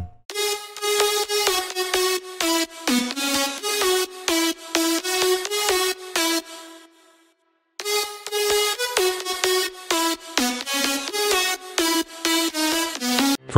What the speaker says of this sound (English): The lead melody consists of 7 different lead sounds, 1 string sound and 3 vocal samples for a more organic sounding sound.